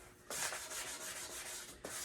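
A wooden piece is hand-sanded during a French polishing restoration, giving close scratchy rubbing strokes, one long pass then a brief pause and another stroke starting.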